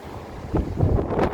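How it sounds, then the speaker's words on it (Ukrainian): Heavy wind buffets the microphone in low, rumbling gusts, growing stronger after a moment, with no voices, outdoors beyond Vienna. "Сильний-сильний вітер."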